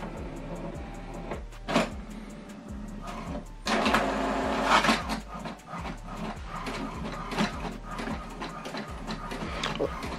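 An HP DeskJet printer prints an alignment page, its mechanism whirring and clicking in a steady repeating rhythm with brief louder bursts as the paper feeds, close by and with no talk.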